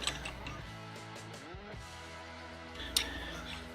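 Ratchet wrench tightening a bolt, a few quick clicking ratchet strokes with faint creaks, close and quiet.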